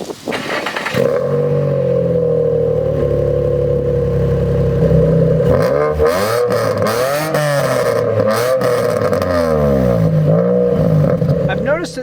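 A 2005 Nissan 350Z drift car sits at a loud, steady idle, then is revved hard several times, its engine note swooping up and dropping back in quick surges close to the listener.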